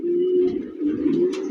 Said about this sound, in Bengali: দেখার মতো কবুতর দেখেন